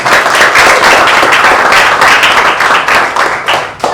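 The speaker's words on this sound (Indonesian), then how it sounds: "Beri aplaus untuk kalian." A classroom of students applauding together, a steady, loud burst of many hands clapping that carries evenly for several seconds before easing slightly at the end.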